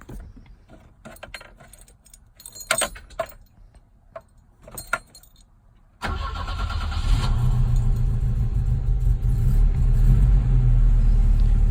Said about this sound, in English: I'll start it, rev it, so you can kind of hear the resonance